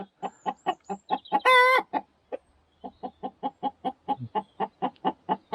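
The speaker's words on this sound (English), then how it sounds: "they do this kind of classic chicken noise when they're laying eggs" A homestead hen on a hillside micro-farm clucks in a steady run of sharp, evenly spaced calls after laying an egg, with one drawn-out squawk early on, close and clear.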